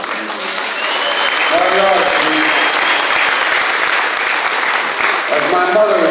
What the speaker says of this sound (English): He deserves a real round of applause.